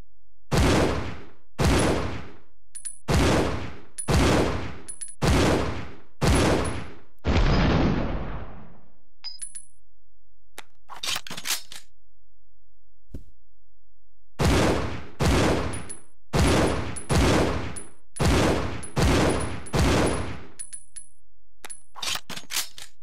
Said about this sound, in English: let's test the Magnum out